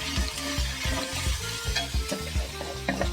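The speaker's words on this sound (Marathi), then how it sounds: "आता धना पावडर जरा परतून घेऊया" Coriander powder, cumin powder and spices sautéing in a hot pan for a capsicum and potato bhaji, a steady close sizzle broken by repeated scraping stir strokes.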